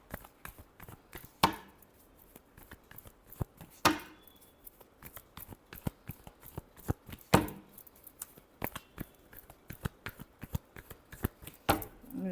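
Tarot cards shuffled and tapped in a steady run of sharp, close clicks and slaps, with a few louder snaps standing out from the quieter rustle.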